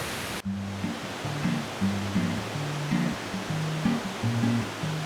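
A waterfall at a swimming cascade in the San-Pedro region gives a steady, full rush of falling water that continues the whole time, with soft music playing underneath.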